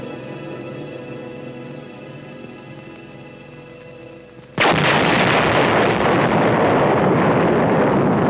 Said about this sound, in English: Within 30 seconds will come the thunderous roar of the explosion 7 miles away.